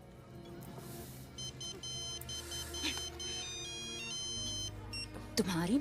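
An electronic phone ringtone chimes in a repeating melodic pattern over background music and a short burst of voice near the end.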